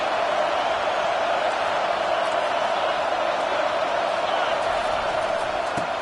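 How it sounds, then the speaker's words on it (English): Football stadium crowd cheering on third down, a dense, loud, sustained roar of many voices that holds steady without a break. "Decibels rising as the crowd gets behind this defense on third down."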